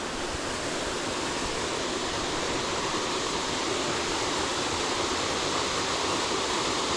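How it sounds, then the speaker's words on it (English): Loud, constant roar of a waterfall heard from its base at Mayo River State Park, North Carolina, a dense unbroken wash of falling water up close, with no other sounds over it. "And this is the bottom of the waterfall right here."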